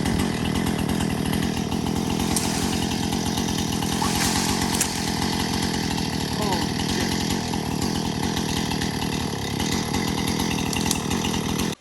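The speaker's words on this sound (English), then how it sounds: "I got my chainsaw stuck" A chainsaw cuts through wood on a building site, its engine roaring loud and steady for the whole stretch with a constant buzzing chatter.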